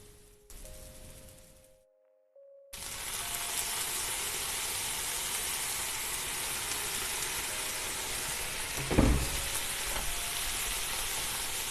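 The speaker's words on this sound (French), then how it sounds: "Je vais déglacer" A pan sizzles loudly and steadily as red wine vinegar goes in to deglaze it, the broad hiss holding strong after a brief quiet gap, with a sharp flare of spitting around the middle.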